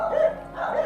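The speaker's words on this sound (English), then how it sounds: "Now you can hear the dog is barking." A dog outdoors gives two short barks or yips in quick succession, fairly close and clear.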